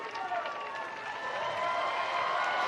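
Crowd in garnet cheering at a women's soccer championship match between Clemson and Florida State, a steady roar of many voices with applause rising gradually over the stretch, continuous and fairly loud throughout.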